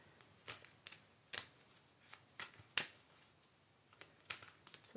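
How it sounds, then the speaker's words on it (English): Tarot cards are shuffled in quick, crisp riffles and taps, sharp clicks repeating irregularly in a quiet room. "So let's shuffle these cards."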